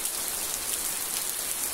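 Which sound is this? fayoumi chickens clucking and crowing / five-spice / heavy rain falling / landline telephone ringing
heavy rain falling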